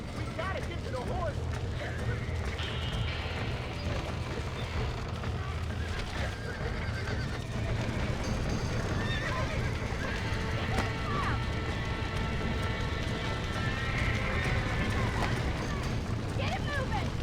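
Horses gallop with steady clip-clop hoofbeats and repeated neighs in a Red Dead Redemption game scene, loud and continuous under a dense rumbling background, with voices talking over it.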